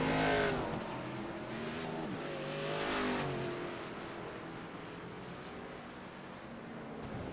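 Race cars at Circuit of the Americas scream past close by, with engines revving and rising in pitch before they fade, under a continuous roar of racing.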